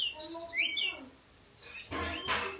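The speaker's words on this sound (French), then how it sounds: "c'est des petits oiseaux." Small birds chirp from an alarm clock's birdsong sound: quick rising and falling tweets up close, followed by a pair of louder, rougher bursts.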